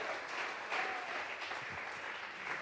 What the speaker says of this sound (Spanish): Vamos a regalarle ofrenda de palmas al Dios de la gloria